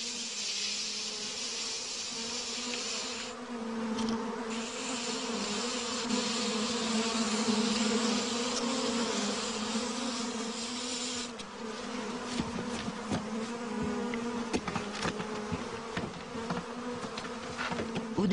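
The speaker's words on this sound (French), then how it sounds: "L'eau froide a le mérite de calmer les abeilles" A dense swarm of honeybees buzzes continuously at close range, a loud, steady hum with shifting wingbeat tones and no talking.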